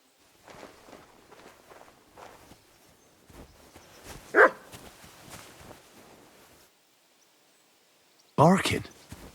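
Dog barking in Kingdom Come: Deliverance II: footsteps and rustling, a sharp loud bark midway, a quiet pause, then a second louder burst of barks close by.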